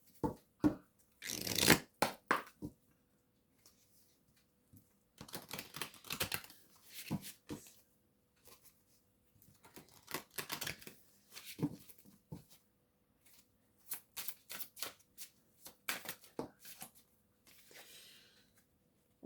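Soul-healing oracle cards are shuffled up close in a quiet room, with crisp riffling bursts and soft slides of cards coming in irregular clusters separated by near-silent pauses.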